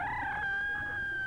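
A breeding rooster from a selected supply flock crows in one sustained, steady call that fills the moment, loud and near over a faint hiss.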